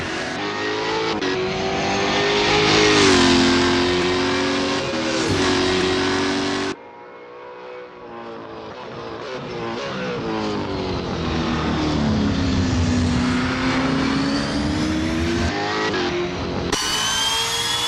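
A V8 Supercar Holden Commodore ZB races at Albert Park in Assetto Corsa. Its engine drones loud and close, rising and falling in pitch through the gears, with a sharp shift dip and steady acceleration.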